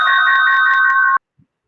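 A phone ringtone plays a loud electronic melody with a steady pulsing tone for about a second, then cuts off abruptly, leaving near silence with a faint soft knock.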